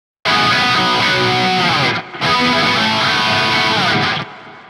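Layered distorted electric guitars wash out with long reverb and a synced eighth-note ping-pong delay, a loud continuous wall of chords with one short dip midway and a tail that fades at the end.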